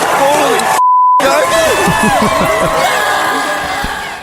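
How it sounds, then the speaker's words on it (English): A single steady censor beep cuts over swearing during a TV broadcast of Olympic slopestyle snowboarding, a flat tone lasting under half a second amid crowd noise and excited voices talking loudly. "We beeped it."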